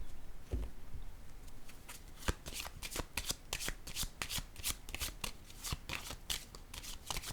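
Tarot cards shuffled and set down on a table, a steady run of crisp riffling and soft slaps, close and fairly quiet, with no one speaking.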